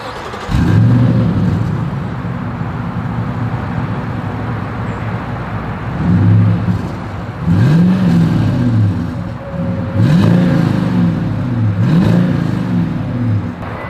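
A 2022 Toyota Sequoia SUV engine idles with a deep exhaust rumble, then revs up several times in rising and falling surges, close and loud.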